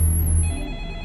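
A telephone in a horror film rings with a loud, close electronic trill. The ringing sounds once, then fades into a thin, high tone.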